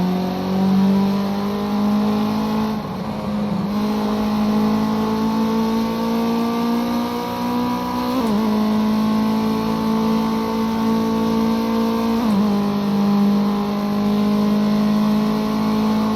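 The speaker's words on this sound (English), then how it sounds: "The thing about the Ginetta is the engine never feels like it's overworking." Ginetta race car engine in the Project Cars 2 racing game at Oulton Park, droning loudly and steadily with smooth rises in pitch and brief dips at gear changes, alone without talk.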